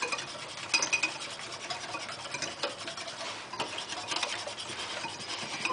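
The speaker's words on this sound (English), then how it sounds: "I use the whisk, so make it smooth" A whisk beating milk and flour smooth in a bowl makes fast, steady scratchy rubbing and light clinks, close and fairly quiet with no speech.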